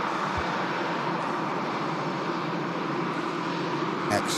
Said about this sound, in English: Iberia Express arriving in from Madrid